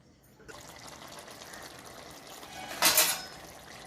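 Coconut mixture poured from a mixer jar into a pan of chicken curry on the stove, a quiet liquid splash rising briefly near the end amid soft kitchen clatter.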